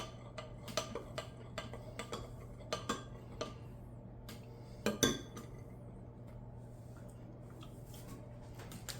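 A whisk clinks against a bowl while emulsifying a marinade of soy sauce or aminos, honey and rice wine vinegar for Asian-style pork chops, giving faint, irregular metallic taps with a louder clatter partway through.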